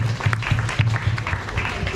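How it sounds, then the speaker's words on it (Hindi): A group of children clapping for a classmate named Falak in a classroom, quick bursts of claps in a loose rhythm lasting a couple of seconds, close and fairly loud. "तालियां फलक के लिए।"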